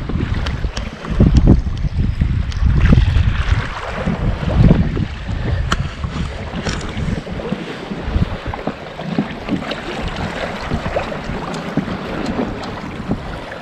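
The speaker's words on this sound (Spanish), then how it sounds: "Hay unas olas brutales." Wind and choppy lake waves slapping against a small fishing boat on Lake Guajataca, with steady rumbling wind noise and splashes throughout.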